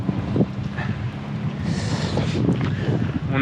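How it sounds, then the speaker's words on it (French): Steady wind roars across the microphone on the open road to Ushuaia, a constant low rumble with gusty swells throughout and no voices. "Il y a du vent de tout le long"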